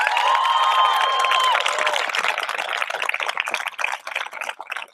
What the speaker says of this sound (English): Can we get a big round of applause for our teachers and staff members?